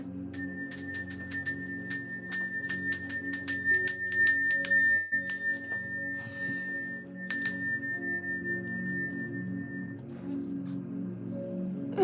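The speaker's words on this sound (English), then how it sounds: "Let me go get my Ogun and Elegua bell right there." Small Ogun and Elegua ritual bell rung in quick repeated bursts of bright metallic tinkles, then a pause and a final ring fading out, close and loud.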